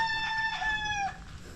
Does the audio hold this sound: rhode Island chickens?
yes